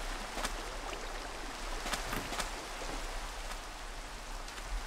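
Rain falls steadily in the video game Minecraft as a faint, even hiss with scattered droplet ticks and no one speaking.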